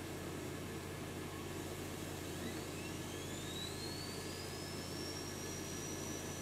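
Homemade air-pressure-driven motor starting up as the supply hose is squeezed for extra pressure, a faint continuous hiss with a low hum and a thin rising whine as it spins up.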